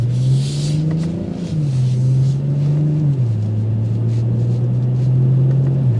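Exhaust note of a 2023 BMW M440i Gran Coupe, a steady loud droning rumble close by with small rises and dips in pitch as the engine holds around low revs, no talking over it.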